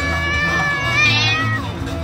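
A cat meows once in a drawn-out, rising and falling cry, heard beneath people talking in a busy salsa dance academy.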